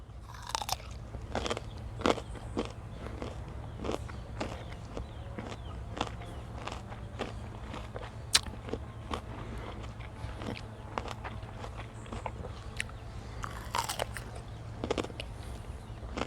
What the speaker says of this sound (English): Because who doesn't like crunchy cucumbers?